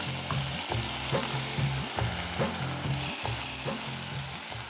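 Ingredients tossed and stirred in oil with dried red chillies, a constant close sizzle broken by rhythmic scraping strokes of a spoon against the pan, about two per second.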